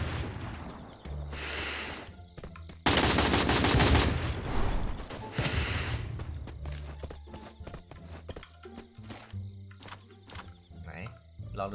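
Gunfire in the mobile shooter Free Fire: a sharp burst of rapid shots stands out amid scattered footsteps and game effects, with someone talking over the action.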